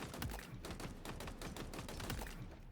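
A rifle in the Halo Infinite video game fires in rapid, feathered bursts, a dense, loud rattle of shots running almost continuously with slight breaks in rhythm.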